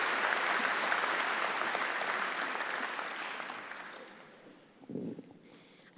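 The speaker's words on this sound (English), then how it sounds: "the resonant sound of the applause to follow will lift your spirits" A large commencement audience in Carnegie Hall claps in a broad, resonant wash that is loud at first, then slowly fades. A brief murmur of voices follows, and a sharp thump comes at the very end.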